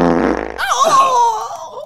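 A single fart sounds close and loud, beginning as a low buzzing rasp and turning into a squeaky, wavering whine that fades out after under two seconds.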